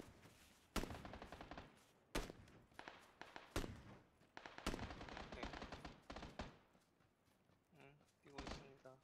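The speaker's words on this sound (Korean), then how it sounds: "바로 앞에서 총소리 들려." Gunfire in the video game PUBG Battlegrounds: sharp, loud shots crack out in several bursts and rapid volleys across the stretch, mixed with game noise and players talking over it.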